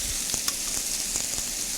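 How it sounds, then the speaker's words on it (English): Steady sizzling and frying hiss of chicken in a pan fills the clip, with a few faint clicks and taps over it. "taking the chicken and putting it on the pan. Nice sizzle."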